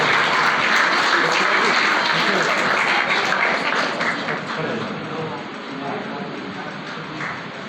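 Audience applause at an annual exam-results prize ceremony held at Jwala Devi, Civil Lines, in 2021: dense, steady clapping from many hands that slowly thins out toward the end, with faint voices mixed underneath.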